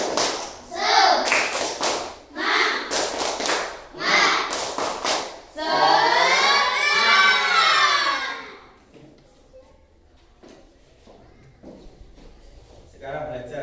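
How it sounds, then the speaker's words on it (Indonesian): Group rhythmic 'tepuk semangat' spirit clap performed by a class, loud sharp claps in patterned bursts with children's voices chanting along, then a loud cheer before the room quiets. "Tepuk semangat."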